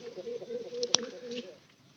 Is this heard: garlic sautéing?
no